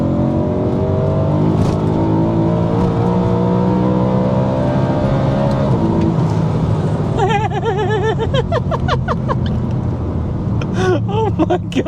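BMW E92 M3 engine revving toward 8,000 rpm while driving, dropping down through the gears, a loud sustained climbing engine tone with pitch sweeps and gear changes under excited voices.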